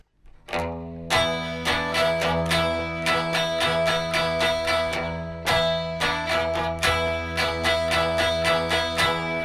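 A guitar works slowly through verse 2 of a song, a sustained opening chord followed by a long run of evenly picked riff notes and strums, clear and close without any talking.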